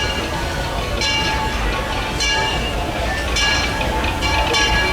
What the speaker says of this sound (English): I can hear a train coming as we speak